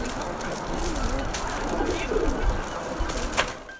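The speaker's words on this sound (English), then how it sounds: "making the well-known bubbling pigeon call" Pigeons make their bubbling courtship coo, soft low warbling notes under a steady background hiss, with a few flutters and faint speech mixed in.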